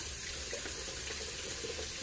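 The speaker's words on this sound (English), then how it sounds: "can we get some hot water in this thing?" Hot tap water pours steadily into a container being filled for a floor wash, a constant hissing rush with no break.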